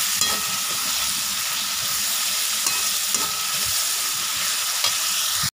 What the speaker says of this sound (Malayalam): ഉള്ളി നന്നായിട്ട് വയന്ന് വന്നിട്ടുണ്ട്.